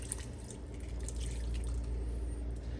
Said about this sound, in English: Then you're gonna put about 1/3 of a cup of that soy sauce